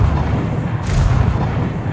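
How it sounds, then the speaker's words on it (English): Ship-mounted guns firing in Star Citizen, a heavy, sustained rumbling boom, loud and close, with no voices. "Ooh, that's my guns."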